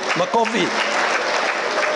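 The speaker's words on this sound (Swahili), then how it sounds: "Makofi." Applause greets Kalonzo Musyoka, Wiper Party leader, as he comes to the podium at a political gathering: a continuous, loud crowd clapping that carries a brief voice at the start.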